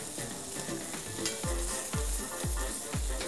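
Vegetables sizzling on a Gringo outdoor barbecue grill, steady close frying hiss with rhythmic scraping strokes as pieces are pushed back on the grate.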